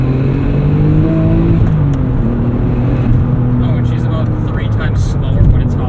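A 2004 Porsche 911 Turbo X50 accelerates hard in second gear on a city drive, its engine note climbing steadily in a loud, continuous pull heard from inside the cabin.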